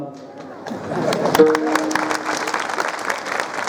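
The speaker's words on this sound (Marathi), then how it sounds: "हाताने टाळी वाजवा, मुखाने विठ्ठल विठ्ठल म्हणत जा" A kirtan audience claps hands together, the applause swelling from scattered claps into a loud, dense, steady round that carries through to the end.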